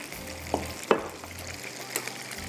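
Fried nuggets lifted out of hot oil, with a low steady sizzle of frying and a couple of sharp clinks and scrapes from a utensil.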